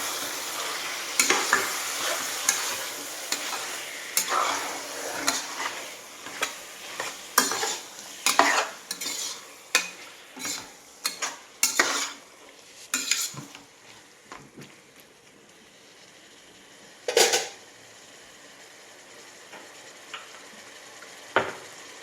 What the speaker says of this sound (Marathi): आता छान परतून घ्यायचं पाणी टाकायचं नाही